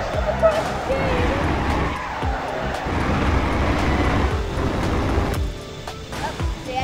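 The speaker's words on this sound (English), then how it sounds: "You're watching the crash again!" Vehicle crash in the video game Car Crushers 2: a dense, continuous roar of grinding, scraping engine and impact noise throughout, loud and sustained, with people talking over it.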